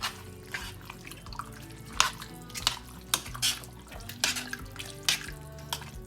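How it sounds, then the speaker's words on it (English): A spoon clinks and scrapes around a pot of simmering homemade sausage and bacon soup on the stovetop, with irregular metallic taps and a steady bubbling background, no talking. "I'm going to go ahead, stir all this up"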